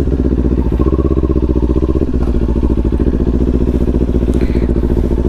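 A motorcycle heading out on a ride on a New Zealand road trip, its engine thrumming loud and close in a steady, even rhythm, with nobody speaking.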